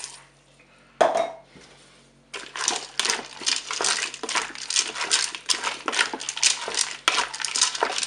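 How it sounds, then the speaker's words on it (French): Broth is poured into a Cookeo multicooker pot, starting with a metallic clink, then a sustained close liquid splashing and gurgling that flows in uneven bursts, with no speech. "Maintenant, je vais verser mon bouillon."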